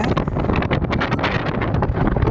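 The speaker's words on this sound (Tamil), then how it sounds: "சரியான காற்று அடிக்க பாருங்கள் எப்படி அடிக்கிறாங்க" Strong coastal wind on the route to Dhanushkodi near Rameswaram, a steady loud roar buffeting the microphone with continuous rumbling gusts, close and unbroken, and no voices.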